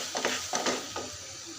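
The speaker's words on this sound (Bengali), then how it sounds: "এইভাবে আমি নেড়ে নেড়ে ভালো করে পাকা নিয়ে নেব।" Sago pearls with chopped almonds and cashews are stirred in a pan for sweet laddu, giving three soft scraping strokes over a faint sizzle, with no talking.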